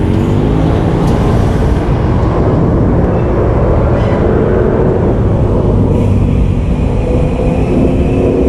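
A truck rolls past on a night road during a group bicycle ride, a loud, steady engine roar and tire rumble that stays close throughout with no voices.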